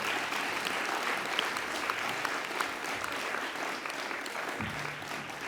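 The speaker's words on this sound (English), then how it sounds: "So give him another round of applause, even though he's not here." Sustained audience applause fills a hall at an animal justice awards ceremony, steady and dense throughout with no voices rising above it.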